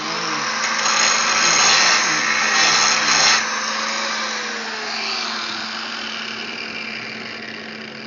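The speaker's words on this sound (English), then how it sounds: "Grind it up a little more." A power grinder working metal during a welding repair job: a loud, continuous high-pitched whine and rasp close by that eases slightly toward the end, with no talking.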